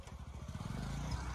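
A tractor engine runs on a mountain road with a rapid, low, chugging putter that grows steadier and slightly louder, close by and without talk.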